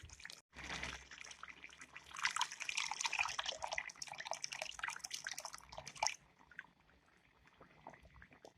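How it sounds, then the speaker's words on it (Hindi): Water poured into a pot of chickpea curry with chicken, a steady splashing pour running for about six seconds before tapering into quieter drips and faint kitchen sounds. "अब मैं इसके अंदर पानी ऐड करती हूँ।"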